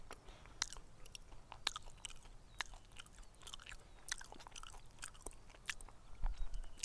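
Close, crisp crunching and chewing of cooked insects, irregular bites of something brittle being broken up in the mouth, with no talking.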